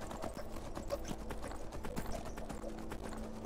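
Horse hooves clip-clop in Skyrim, a steady, fast rhythmic patter of hoofbeats that runs throughout at a close, even level with no speech over it.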